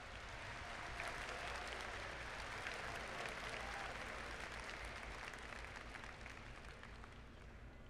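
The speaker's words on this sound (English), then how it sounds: "Offer them a little bit of an applause" Crowd applause at a Tekken 7 tournament top-eight event, a steady wash of clapping from a large audience that holds for several seconds and slowly tapers near the end, with no talk over it.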